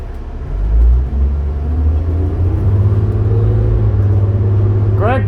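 A 2005 New Flyer D40LF transit bus pulls away from a stop, its diesel engine a loud, steady low rumble that builds as it accelerates, heard continuously from inside the cabin.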